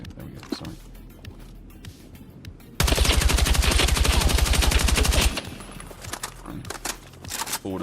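Rapid automatic gunfire from a weapon fitted with a ribbed vertical grip in Battlefield 6, one loud sustained burst of a few seconds, framed by quieter in-game footsteps and ambient noise before and after.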